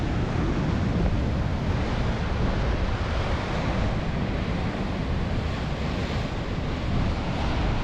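Huge storm waves crash and roar along the Scottish coast during Storm Ashley, a loud unbroken wash of surf heavily buffeted by wind rumble on the microphone.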